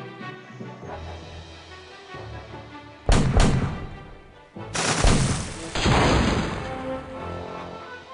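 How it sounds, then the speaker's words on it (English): Ship cannon fire in the pirate video game Curse of Monkey Island: two loud booming blasts with crashing tails. The first lands around the midpoint and the second follows soon after and rumbles on, over a soft background score. "A level 3 cannon."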